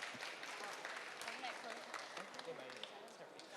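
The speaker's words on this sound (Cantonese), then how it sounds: "俾啲掌聲佢" Applause at an art award ceremony: faint, scattered clapping from a small crowd, with a voice talking over it.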